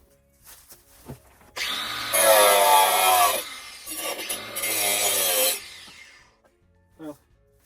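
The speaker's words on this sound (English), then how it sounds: "I should use the Sawzall." Sawzall reciprocating saw cutting while freeing a stuck riding lawnmower, a loud rasping buzz in two long bursts with a short pause between, ending in a brief final stroke, with faint talk around it.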